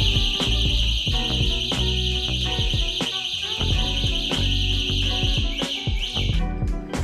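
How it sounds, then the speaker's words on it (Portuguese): Loud electronic anti-theft alarm on a 1500W Gloov electric scooter, a continuous shrill siren with steady high tones and rapid pulsing chirps that fills the whole stretch without pause. "ela contém alarme e o som dele é bem alto"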